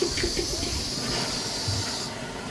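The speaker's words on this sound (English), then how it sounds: "So we'll turn the stove on." A plain gas stove burner lit for cooking gives a steady, close rushing hiss of gas flame that holds evenly throughout, with faint clicks and clatter beneath it.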